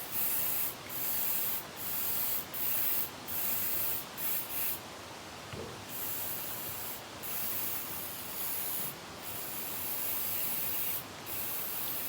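Bursts of spray hiss as flexible rubber leak sealant is sprayed onto styrofoam, several separate puffs in an uneven rhythm, close and fairly loud, with no talking.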